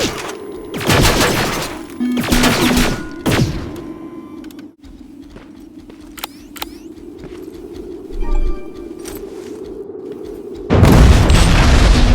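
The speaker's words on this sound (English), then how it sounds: "Rockets, run!" Rocket explosions in the Terminator: Resistance video game: heavy booming blasts burst out near the start, at about 3 seconds and again near the end, with a low rumbling ambience and scattered bird-like calls between them.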